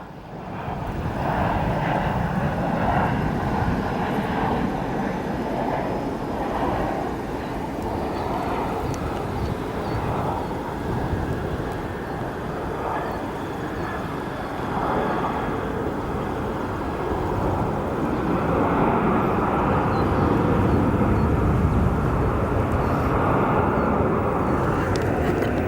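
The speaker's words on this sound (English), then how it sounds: "We've got an arrival here on the south side of the airport." A steady, broad roar of a jet airliner arriving on the south side of O'Hare Airport at sunset, a continuous engine rumble that holds fairly constant and swells slightly toward the end.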